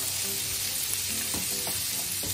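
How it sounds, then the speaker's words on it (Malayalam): Fresh ginger garlic paste sautéing with onion in a pan, a loud, dense sizzle with a few soft scraping stirs toward the end. "ഇഞ്ചി വെളുത്തുള്ളി ഫ്രഷ് ആയിട്ട് അരച്ച് വെച്ചേക്കുന്നത് നമ്മൾ അതിന്റെ കൂട്ടത്തിൽ തന്നെ ഉള്ളിയുടെ കൂടെ വഴറ്റിയെടുക്കുവാണ്"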